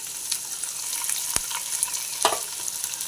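Onions, green chillies and tomatoes sizzle steadily in a pan, with a couple of sharp scrapes and clinks as the mix is stirred, close and continuous without talk.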